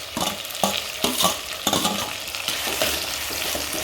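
Onion frying with tomato, curry leaves and green chili in a pan, a steady sizzle broken by repeated scraping strokes of a spoon stirring, close and fairly loud.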